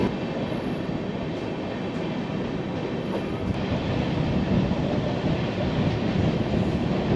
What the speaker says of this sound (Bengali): আমরা এখন অযোধ্যাধাম জংশন ঢোকার আগে স্টপে দর্শননগর স্টেশনটা পেরোচ্ছি